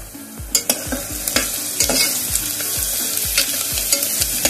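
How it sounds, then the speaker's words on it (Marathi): Grated ginger and curry leaves sizzle in hot oil for Mumbai-style pav bhaji, a continuous hiss broken by regular scraping strokes of a spoon against the pan, about twice a second. "छान गोल्डन कलर येईपर्यंत थोडं परतायचं।"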